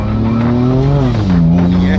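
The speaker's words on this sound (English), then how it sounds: "The way it shifts so clean and quick." A Ferrari Enzo engine revs loud and close, its pitch climbing, dipping at a gear change, then rising again under a steady roar, with voices faintly underneath.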